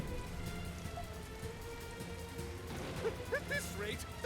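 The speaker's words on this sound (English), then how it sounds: "Okay, it's just raining." Steady rain falls in the video game Ys VIII: Lacrimosa of Dana, a continuous hiss with game music and effects mixed in, and a brief burst of higher tones near the end.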